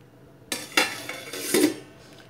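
A metal lid is set onto a cooking pot of sorrel drink on the stove, a few close clanks and clinks as it settles into place, with no talking.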